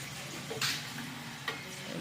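Potato and semolina kurkure snacks frying in oil that is not quite hot enough, a steady soft sizzle and bubbling with a couple of brief louder crackles, close and alone.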